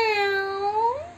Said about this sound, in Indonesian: Meow, meow, kata si kucing ketika penjahit membuka pintu.